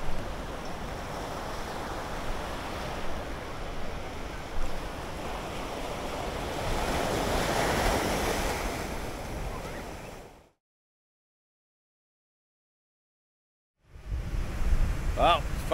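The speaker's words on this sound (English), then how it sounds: "Waves are just insane." Ocean surf pounds the shore on Kauai, a steady, roaring wash of big waves with wind buffeting the microphone. The roar swells mid-clip, then cuts to silence for a few seconds and returns.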